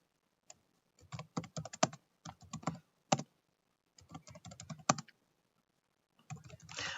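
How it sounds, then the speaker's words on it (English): Fingers type on a computer keyboard in short irregular bursts of crisp clicking keystrokes, heard close and separated by brief silent pauses. "Let me type."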